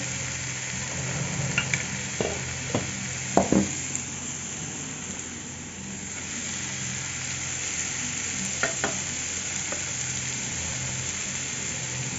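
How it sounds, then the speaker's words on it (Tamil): Chicken pieces dropped into a hot pan with tomato masala, sizzling and frying steadily while a spoon stirs with a few scraping knocks, close and continuous with no voice. "இப்போ பாருங்கள், சிக்கன் போடுறேன்."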